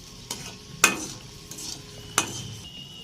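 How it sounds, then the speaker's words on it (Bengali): Dried red chillies frying in a pan for homemade chanachur, a soft steady sizzle with a few sharp scraping stirs of a spatula standing out at intervals, close and fairly quiet. "শুকনো মরিচ এখন ভেজে নেব।"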